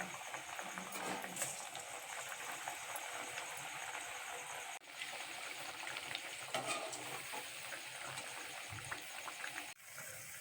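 Chickpea vadas fry in hot oil, a steady, fairly quiet bubbling sizzle that runs on evenly with no voices over it.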